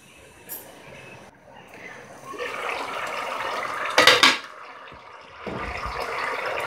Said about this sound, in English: So now again give it a gentle mix.